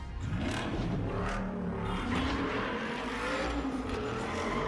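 An Aston Martin engine in a James Bond film scene revs and whirs in rising and falling sweeps, a car-chase style roar with no talking.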